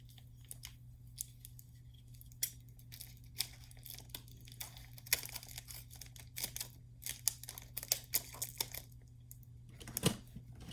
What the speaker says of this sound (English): Well, I better open it with some scissors here